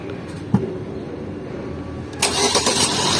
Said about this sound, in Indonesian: Nah, kemudian untuk suara mesin